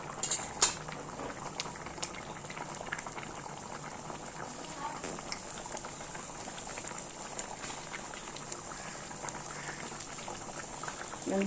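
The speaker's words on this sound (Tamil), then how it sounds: "குழம்பு நல்லா கொதிச்சிச்சு" Crab gravy bubbles and simmers steadily in a pot, a soft continuous boiling with occasional faint clinks.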